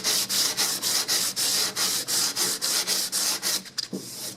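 Steel channel on a square-body K5 Blazer being hand-sanded with 120 grit sandpaper, a steady back-and-forth rasping of about fifteen even strokes, close and loud, ending with a brief clatter.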